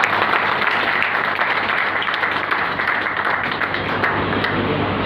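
Sustained applause from an audience at a commemorative gathering in Gwalior, a dense steady wash of clapping filling the whole stretch without a break.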